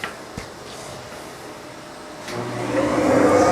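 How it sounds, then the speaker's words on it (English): A workshop dust collector switches on and spins up, a broad rushing hum that swells over the last second and keeps building, with a couple of faint knocks at the start. "Can you hit that switch on that dust collector over there for me?"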